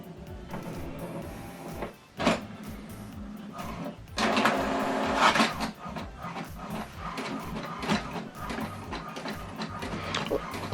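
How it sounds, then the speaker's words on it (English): A home printer feeds and prints a page, with whirring motor passes, clunks of the carriage and paper movement, loud and close, starting and stopping in uneven bursts. "what it's doing now is printing the welcome information that I sent to this printer"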